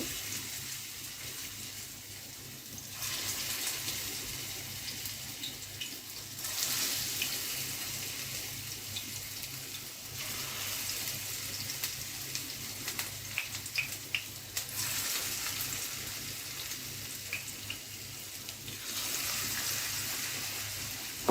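Water lily flower pakora batter dropped into hot oil over a low flame, a steady close hiss of frying with surges of sizzling bubbling, no talking.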